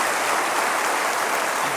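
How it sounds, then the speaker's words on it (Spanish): A church congregation applauds during a Spanish-language worship service, a dense, steady wash of many hands clapping at once, fairly loud and continuous with no voices standing out. "Dale otro aplauso al Señor."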